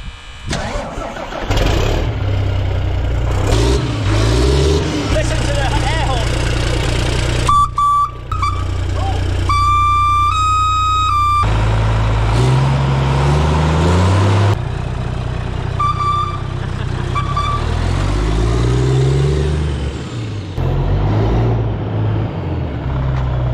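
A truck engine cranks and fires after work on its fuel sender, catching and running with a loud, steady mid-range rumble, then revving briefly with a horn-like toot partway through.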